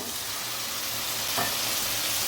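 Spice paste of ground chilli, garlic and cumin fries in oil in a pan, a dense continuous sizzle close up with a faint stirring scrape midway, no talking.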